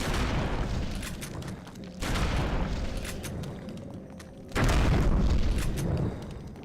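Gunshots in the Eternal Darkness video game, three heavy booming blasts spaced about two seconds apart, each followed by a rumbling decay and crackling debris, loud and close.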